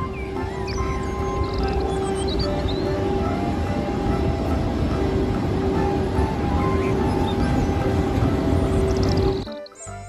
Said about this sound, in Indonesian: Di sini ada kereta super cepat.